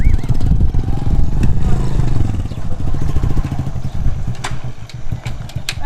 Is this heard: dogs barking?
no